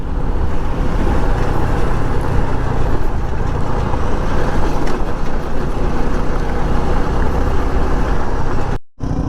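Motorbikes ridden standing up over an all off-road track on the way to Sangameswara, with a steady loud engine and wind roar that runs without a break before cutting out briefly near the end.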